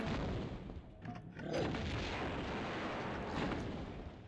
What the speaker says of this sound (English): I have loads of grenades, and I'm hoping the grenades are going to put these guys down super quick.